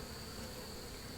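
Honey bees buzz inside a horizontal hive during an April farm inspection. The sound is a dense, continuous drone that holds steady throughout.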